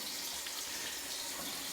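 Cold tap water runs steadily into a sink for wetting a face cloth after a shave, a constant even hiss and splash with no voices.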